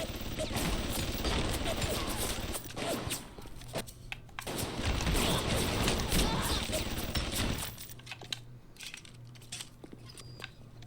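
Automated turret gunfire in BioShock Remastered rattles in dense, crunchy bursts for several seconds, then gives way to sparser game sounds and a humming tone.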